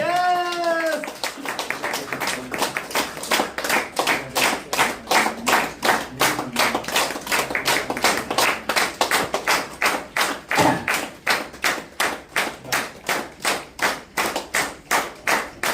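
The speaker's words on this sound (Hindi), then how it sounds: "जोरदार ताली के साथ प्लीज।" An audience claps loudly in steady unison, the sharp rhythmic beats continuing for the whole stretch after a brief voice at the start.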